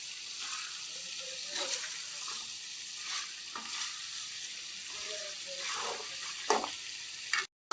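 Pork fries in its own rendered oil while being stirred, making a continuous loud sizzle broken by periodic scraping strokes of the spoon through the pan. No voices are heard.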